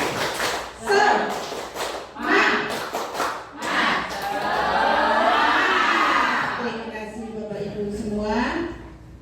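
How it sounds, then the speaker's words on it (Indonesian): Teachers at a midday school training session perform the rhythmic tepuk semangat cheer: bursts of patterned group clapping broken up by chanted voices, fairly close and lively. "Mari kita tepuk semangat."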